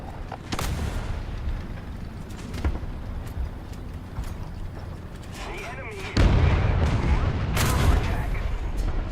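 A tank gun fires in War Thunder and the shell ricochets, loud booming blasts and rumbling impacts with a heavy, louder burst near the end, while a voice speaks faintly over the battle.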